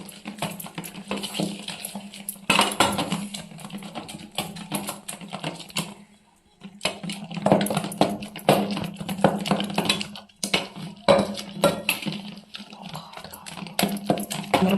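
Cooked dal is mashed coarsely in a pot, a busy run of rapid close tapping and knocking strokes, pausing briefly twice before resuming at steady strength.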